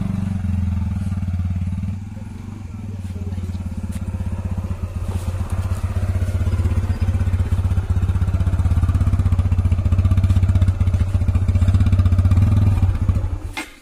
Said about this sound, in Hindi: अभी हम लोग बाइक इधर लगा दिए हैं आंगन में